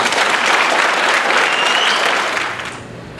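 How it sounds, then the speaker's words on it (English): A crowd claps in sustained applause at a student-teacher debate in a school setting, a dense, loud patter that fades toward the end. "let's have one more round of applause"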